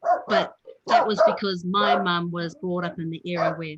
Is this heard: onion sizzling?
no